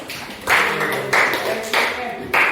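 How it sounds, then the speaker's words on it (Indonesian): A classroom group claps for a student in a few slow, evenly spaced bursts, like unison rhythmic clapping, with faint voices underneath. "Tepuk tangan dulu untuk Agustinus."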